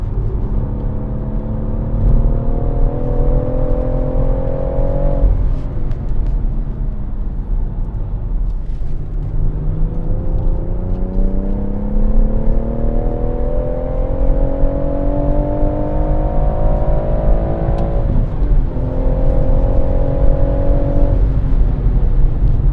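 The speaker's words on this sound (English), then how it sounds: "this is induction noise. You're not hearing the exhaust." A BMW M140i's engine intake roars and whirs steadily, rising in pitch as it accelerates, dropping off, then climbing again; heard from inside the car on the Goodwood circuit.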